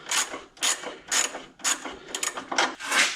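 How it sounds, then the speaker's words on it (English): A 10 mm deep socket ratchet works loose the battery hold-down on a Subaru Forester, giving about eight close, loud bursts of rapid clicking separated by short pauses, with no talk. "We've got a deep socket 10 millimeter, and that's what we're using to take that off, that battery hold down."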